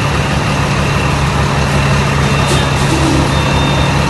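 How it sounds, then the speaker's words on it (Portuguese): Heavy truck engine idling close by in a convoy, a loud, steady low rumble with a constant droning tone that holds throughout. "Aqui é caminhão."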